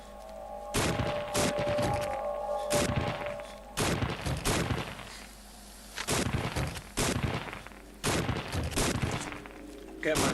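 Rapid video game gunfire in PK Apocalypse as a weapon's clip is emptied, with repeated bursts of booming shots in clusters separated by short pauses, heard under someone talking.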